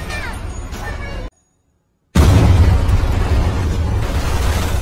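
A bomb goes off in a film scene: after a stretch of dense sound and a brief total silence, a loud, broad blast erupts and rumbles on steadily to the end, close and heavy, with no speech.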